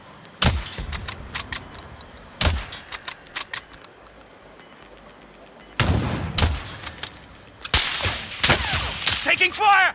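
Gunfire in Call of Duty: Warzone, sharp separate shots at first, then dense rapid automatic bursts crackling near and loud, with game voice lines and player talk mixed in.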